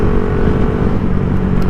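A motorcycle engine drones loudly and steadily up close, its exhaust rumbling with a constant low growl and no talking.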